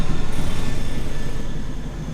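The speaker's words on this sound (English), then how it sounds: "Helicopters flying over." Helicopters flying overhead in San Francisco make a steady, close low rotor drone with a fast rhythmic throb that fades slightly toward the end.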